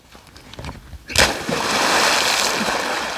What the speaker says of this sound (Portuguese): com esse aí, já vai quatro cavalos que pulam aí dentro